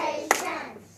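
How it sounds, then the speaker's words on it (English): A single sharp hand clap in a classroom lesson on animal adaptations, standing out once over a fading background of children's voices. "Clap it."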